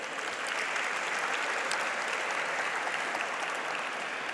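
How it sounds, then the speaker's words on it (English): An audience at a store launch gives a round of applause for designers and models, a continuous, even crackle of many hands clapping throughout, fairly close and uninterrupted. "a round of applause."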